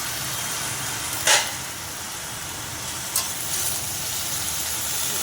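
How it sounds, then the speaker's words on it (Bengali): Fish head cooking with mixed winter vegetables in a pan, giving a steady broadband fry-and-sizzle hiss with two brief sharp clinks of stirring, close and moderately loud, no talk. "সবজিগুলো আমি একটু নেড়ে দেখবো"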